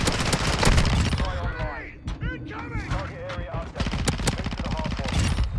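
Rapid automatic fire from a PDSW 528 submachine gun in Call of Duty: Modern Warfare II, dense bursts of loud close shots with brief pauses, over game effects and someone speaking.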